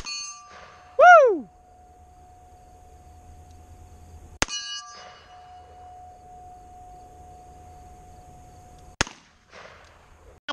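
A .38 Special revolver fired at a steel target outdoors: a sharp shot and bright metallic ring early on, followed by two more sharp cracks with lingering clangs spaced several seconds apart, with quiet between.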